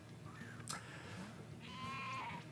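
Sheep-like monster cry from the fan-made video game Pokemon Uranium, a short bleating call rising over steady game music and background sounds, heard alone without talk.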